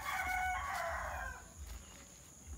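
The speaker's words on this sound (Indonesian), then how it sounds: "Baru ada mama ayam lagi." A chicken calls out with a drawn-out, faint crowing-like cry from a short distance, followed by low background noise in a rural yard.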